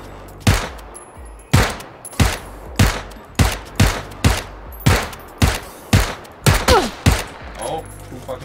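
Loud, close gunshots ring out in PlayerUnknown's Battlegrounds, about a dozen sharp single cracks fired in a steady rhythm roughly every half second, each with a short echoing tail.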